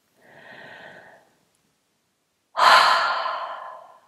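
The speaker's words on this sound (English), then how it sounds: "taking a nice deep breath, not with your shoulders, but deep into your lungs. And then just inhale." Two deep breaths drawn through the mouth, a softer airy inhale followed after a pause by a louder, longer rushing breath that fades out, close to the microphone with no talking.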